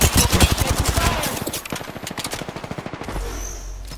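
Rapid automatic gunfire in the battle royale game Apex Legends, a steady rattling stream of shots that starts loud and tapers slightly, with a brief voice underneath.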